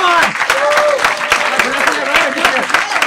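Audience at a live storytelling night applauding as storyteller Soula comes to the stage, dense close clapping with cheers and whoops mixed in, loud and sustained.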